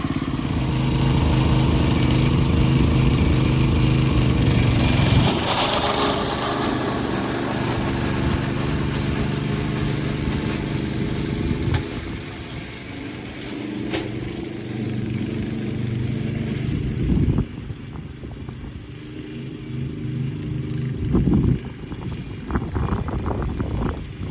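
A roughly 70-year-old lawn mower with rusty, dull blades runs and cuts grass, its engine a loud, steady, rough drone throughout, close by, with slight shifts in load as it mows.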